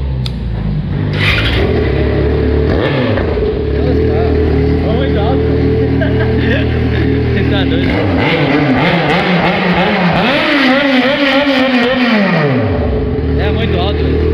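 A loud Yamaha XJ6 motorcycle engine with a raw, open straight-pipe exhaust idles and revs, pitch rising and falling through several throttle blips, continuous and close.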